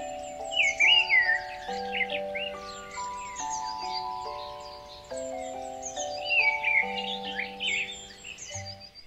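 A cartoon bird chirps in an animated story, giving several bright, quick tweets in bursts over a soft melodic music background.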